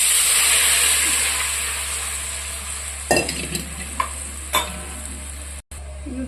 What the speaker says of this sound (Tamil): கரைச்சி வச்ச ரசத்தை இதில் ஊற்றிடுறேன், இதில் சேர்க்குறேம்மா